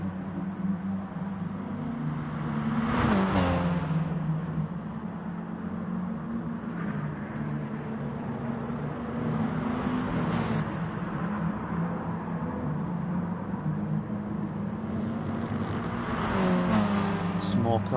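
Racing cars in a hot hatch video game drone steadily at mid distance, with engines rising in pitch as cars surge past around three, ten and seventeen seconds, under continuous commentary.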